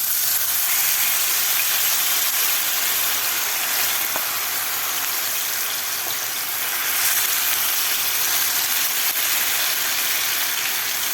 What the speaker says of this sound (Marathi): आता मसाला आपल्याला तीन ते चार मिनिट व्यवस्थित परतून घ्यायचा आहे